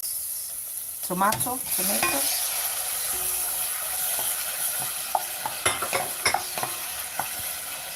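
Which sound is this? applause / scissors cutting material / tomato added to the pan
tomato added to the pan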